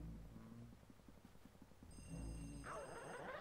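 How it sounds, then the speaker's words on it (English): A telephone rings in the Luigi's Mansion video game, a bright electronic ring entering partway through over low rhythmic background game music. "Where the phone's ringing."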